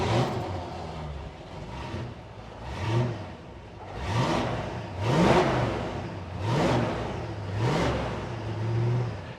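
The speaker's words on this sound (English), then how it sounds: "That's that lovely, lovely burble that's got to it." A 1966 Ford Mustang 302 V8 restomod with automatic transmission revs up and settles repeatedly with a deep burble, several swelling throttle blips in a steady rhythm, close and loud.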